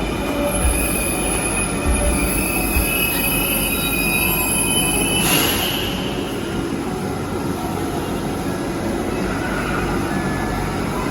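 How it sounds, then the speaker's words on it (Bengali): A Dhaka metro rail train pulls into Motijheel station, its wheels squealing loudly and steadily on the rails throughout, with a brief louder swell midway and no talk. "একটি ট্রেন যেতে না যেতেই আর একটি ট্রেনের আগমন"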